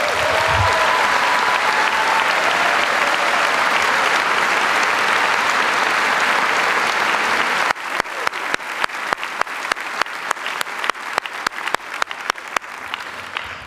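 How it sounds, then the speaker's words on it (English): A graduation ceremony crowd for Chaska High School's class of 2012 gives a loud, dense round of applause that thins after several seconds into scattered, separate claps from a few people. "please stand for a round of applause"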